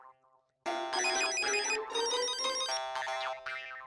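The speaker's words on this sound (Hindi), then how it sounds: "टप्पू का फोन तो उठा।" A mobile phone ringtone plays loudly, a bright melodic electronic tune repeating in phrases for several seconds after a brief quiet start.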